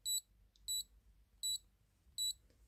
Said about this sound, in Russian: А если мы начнем нажимать на кнопки, то услышим очень похожий звук на вот эти псевдошоки.